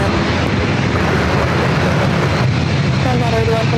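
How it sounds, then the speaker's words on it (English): A United Airbus A321neo arriving from Chicago O'Hare roars loud and steady as a broadband jet rush at an airport, continuous throughout with a slight shift near the end. "That was the United A321 Neo flight coming in from Chicago O'Hare."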